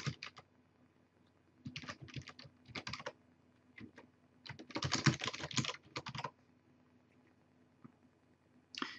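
Typing on a computer keyboard while creating an account password, heard up close as several short bursts of rapid key clicks separated by brief pauses, with no talk.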